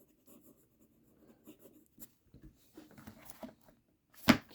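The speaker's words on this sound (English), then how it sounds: "let's do a little writing sample" A fountain pen filled with Noodler's Walnut ink scratches across paper in short, soft strokes with brief pauses, ending in a louder scrape.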